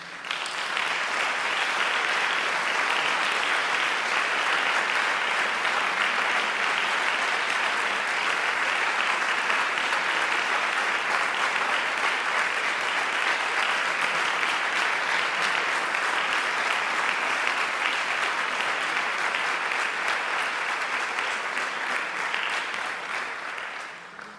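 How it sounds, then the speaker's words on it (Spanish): Loud, sustained applause from a large audience continues steadily for over twenty seconds before tapering off at the very end. "Jo demano un fort aplaudiment per José especialment."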